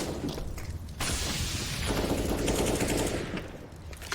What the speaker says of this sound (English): Gotta dodge those wall bangs